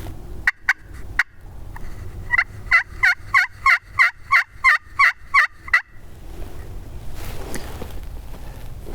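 Wild turkey gobblers gobble outdoors in Nebraska, a burst of about a dozen rapid, rhythmic gobbles followed by a few scattered calls, fairly close, then quiet rustling of the surroundings.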